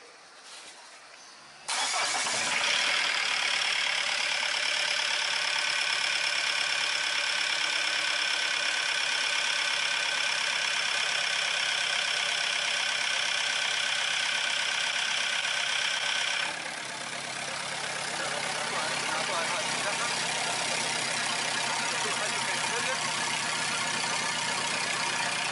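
Diesel car engine idling with a loud, rough noise: the engine starts after a brief quiet moment, then runs steadily and close, its tone shifting slightly partway through.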